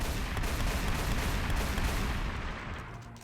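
A big shotgun fires in the video game Daybreak 2, a dense, loud burst of blasts and rumbling booms that tails off toward the end, with no talking.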